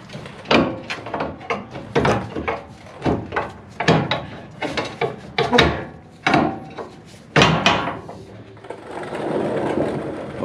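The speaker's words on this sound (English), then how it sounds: "We're gonna give it a little pry with a pry bar, and it should drop to the floor" A pry bar works loose the twin I-beam front axle on a 1999–2004 Ford F250 Super Duty, producing a rapid series of loud metallic knocks, clanks and scrapes close by, then a rougher settling rumble.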